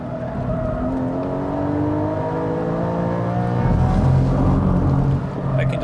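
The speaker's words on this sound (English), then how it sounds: "Engine likes the RPM up there." A Porsche 718 GTS 4.0 naturally aspirated engine drones at high revs on a racetrack, holding a steady strained whine that rises slightly toward the end, loud and close throughout.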